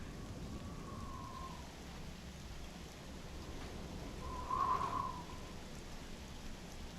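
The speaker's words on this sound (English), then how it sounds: "Alright, stormy weather." Stormy weather in the game Voices of the Void: a steady wash of rain with a low rumble underneath and a brief swell partway through, continuous and moderately faint, without speech.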